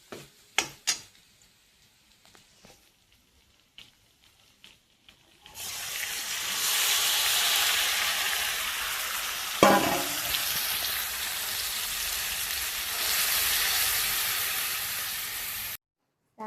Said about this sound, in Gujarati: શાક તો કાપી નાખ્યું છે અને વઘારી દઈશું.